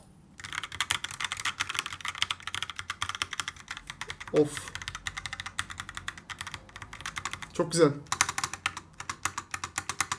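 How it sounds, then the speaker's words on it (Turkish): Rapid, steady clatter of a Logitech POP Keys mechanical keyboard typed up close, with a couple of brief spoken remarks breaking in. "Siz de arkadaşlar şimdi biraz mekanik klavye sesine maruz bırakacağım."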